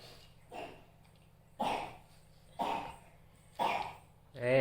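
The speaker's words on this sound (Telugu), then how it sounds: "దగ్గు" Four separate coughs in a slow, evenly spaced series, fairly close, with quiet background hum between them and a voice starting at the end.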